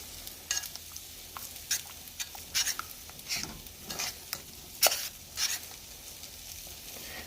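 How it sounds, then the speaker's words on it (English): A spoon stirs a simmering Alfredo sauce in a pan, giving a series of quick, close scraping and sloshing strokes in irregular bursts over a low, quiet sizzle, with no talking. "which I'm going to stir that real quick."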